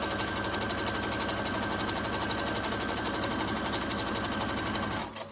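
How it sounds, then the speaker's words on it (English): A sewing machine runs steadily, stitching a small hem on fabric face mask pieces, its fast even mechanical whirring close and continuous before stopping abruptly at the end. "we're just going to stitch a little tiny hem right here"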